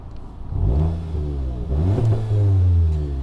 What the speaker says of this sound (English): Now we're not going to rev the car from cold very loud, but hopefully you can hear this.